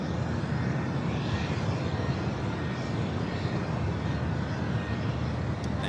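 A Delta Air Lines Boeing 737-800 departing LAX for New Orleans gives a loud, constant jet engine rumble with deep low-end roar, steady throughout and without talk.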